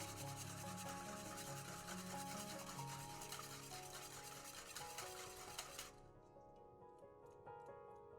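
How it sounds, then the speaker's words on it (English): Three eggs are whisked together in a bowl for Icelandic pönnukökur pancake batter, giving a quiet, steady scraping and swishing that runs continuously and then stops abruptly near the end. "cracking 3 eggs in a bowl and whisking them together"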